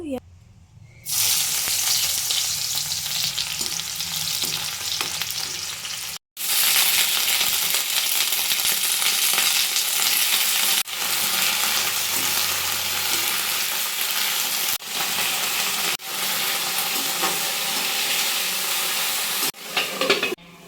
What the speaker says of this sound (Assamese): এফালে মই তেল গৰম কৰি লৈছোঁ